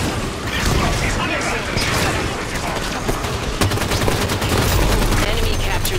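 Rapid gunfire and explosive booms from a Halo 5 multiplayer battle fill the scene, a dense, continuous barrage with scattered sharper cracks, while a voice speaks over the combat noise.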